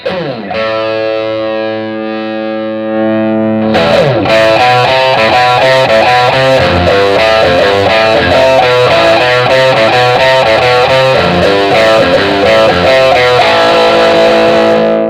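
Distorted electric guitar through a Fender Super Champ X2 amp on a 70s British preset, a held chord first, then a busy, saturated riff that keeps going to the end, loud and close.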